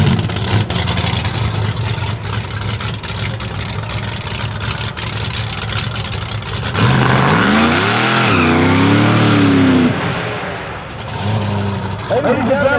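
A brand new Dodge Durango does a burnout at the Sick Powerfest 2023 burnout competition, its engine roaring loudly as the tires squeal and wail continuously, rising and falling, amid crowd noise and talk.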